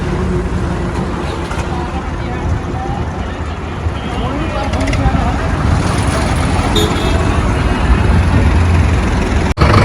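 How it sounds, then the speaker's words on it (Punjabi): Swaraj tractors drive past in a rally in Mohali, a steady, heavy engine roar, loud and continuous with a deep low rumble throughout. "ਦੇਖੋ ਟਰੈਕਟਰਾਂ ਦਾ ਕੱਠ ਚੱਲਿਆ"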